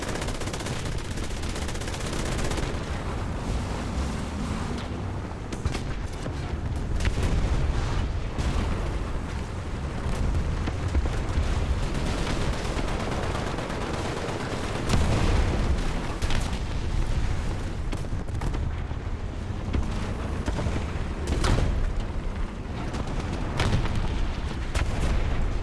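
Tank cannon fire and explosions from a War Thunder battle, loud and sustained, with dense booming blasts and rattling gunfire layered over a constant rumbling roar throughout.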